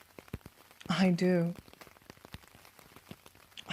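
Rain patters steadily in the background, soft and constant, as a voice speaks briefly over it and other faint sounds tick through.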